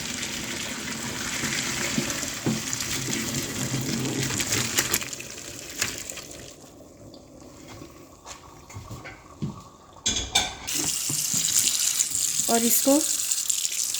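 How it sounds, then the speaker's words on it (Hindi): Boiled pasta being drained, then cold running tap water poured over it in a sink, with a steady water rush, brief pauses, splashes and clatter, and a voice speaking briefly. "ठंडे रनिंग टैप वाटर थोड़ा सा इसके ऊपर डाल देंगे ताकि ये आपस में चिपकेगा नहीं।"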